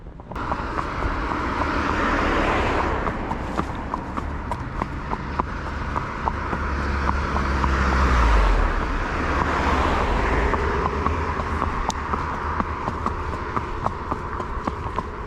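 Road traffic rumbles continuously beside riders taking horses along the road to KFC, with a car swelling louder as it passes midway and sharp clicks scattered throughout.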